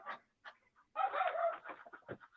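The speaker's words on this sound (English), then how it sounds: "These are baby ducks in the back. These are fowls. These are baby chickens." Baby ducks and baby chickens peep and cheep in quick bursts, one longer run of chirping in the middle, close and fairly quiet with no talking.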